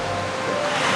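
Ocean waves wash in a steady broadband roar, loud and close, with wind rumbling low underneath and no voices.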